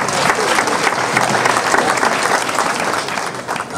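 A church audience gives a full round of applause, many people clapping together in a sustained, loud, even burst with crowd murmur mixed in.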